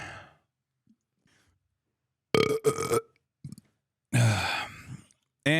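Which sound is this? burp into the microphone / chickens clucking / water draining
burp into the microphone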